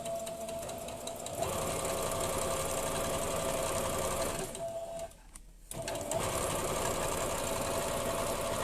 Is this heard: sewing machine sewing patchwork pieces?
yes